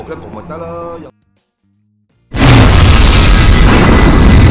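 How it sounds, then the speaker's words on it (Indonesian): A sudden, loud, roaring blast from an oven explosion in a Hong Kong police action film erupts after a moment of near silence and keeps rumbling, following a stretch of music. "tak lama terjadi ledakan hebat"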